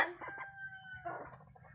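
A sweater crossbreed rooster crows once nearby, a short, clear crow that stands alone in a quiet setting.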